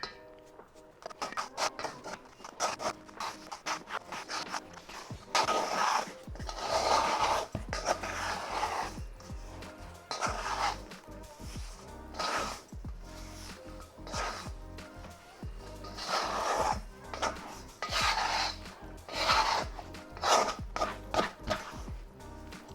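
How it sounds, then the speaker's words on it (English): A white plastic scraper mixes sticky sourdough bread dough in a bowl, producing close, soft wet slaps, squelches and scraping strokes that come in uneven bursts and swells with no talking. "I'm gonna switch over to this white scraper. And keep mixing."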